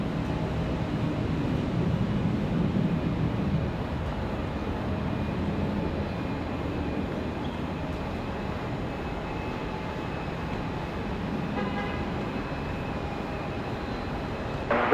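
A JetBlue jet airliner takes off from runway 5 left at Raleigh-Durham International Airport on a windy day, a steady broad engine roar holding loud and constant throughout with no one speaking.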